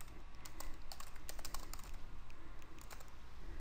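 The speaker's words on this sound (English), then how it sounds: "Now we can type away." Steady, continuous typing on a computer keyboard, with clicky keystrokes in quick irregular succession at close range and no talking.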